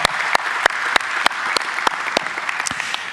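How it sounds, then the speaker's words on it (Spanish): A church congregation applauds armed forces veterans, a sustained, fairly loud wash of clapping with sharp individual claps popping out near the listener at a rough steady beat throughout. "lo queremos hacer con un fuerte aplauso"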